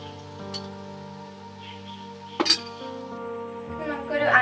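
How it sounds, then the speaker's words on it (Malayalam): Ice cubes drop into carrot, ginger and lime juice with a few sharp clinks, one loud knock midway, over a background of speech and music. "നമുക്കൊരു 5 ഐസ് ക്യൂബ് ഇട്ട് കൊടുക്കാം."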